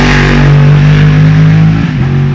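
A 580 hp Daytona GT Coupe race car drives on a track during testing ahead of official practice, its loud, steady engine note holding close and strong before dipping slightly near the end.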